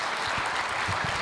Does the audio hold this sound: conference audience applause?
yes